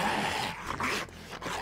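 Feral dogs in the video game 7 Days to Die, growling and snarling continuously at close range for a brief stretch, with no talking over it.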